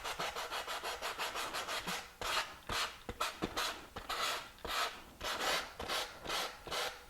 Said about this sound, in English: This is very, very easy to sand.